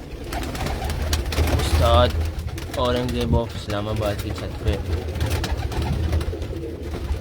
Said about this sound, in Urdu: ٹیڈی کبوتر ہیں جی